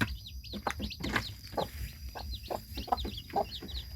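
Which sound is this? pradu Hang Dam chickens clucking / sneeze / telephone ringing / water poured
pradu Hang Dam chickens clucking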